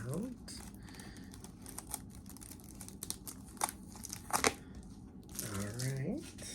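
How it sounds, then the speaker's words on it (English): Tape peeled and pulled off a plant shipping package, heard as crackly, irregular ripping and crinkling bursts close by, with a person talking in between. "let's take the tape out"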